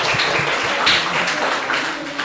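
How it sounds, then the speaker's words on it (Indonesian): Audience applause at an Indonesian school counselling workshop, a steady wash of clapping from a room of participants that runs the whole time with a little voice mixed in. "tepuk tangan untuk semua"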